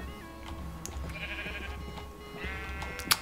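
Sheep bleating in the video game Minecraft, a few short bleats close by over a steady low ambient hum with faint game sounds.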